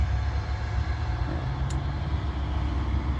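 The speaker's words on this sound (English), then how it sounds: "There's that train in the background" A train rumbles past at night, a steady heavy low drone with constant mechanical noise, fairly loud and unbroken, with no talking.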